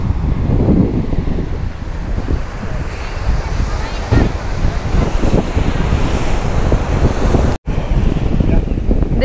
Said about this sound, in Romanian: Deși valurile sunt destul de mari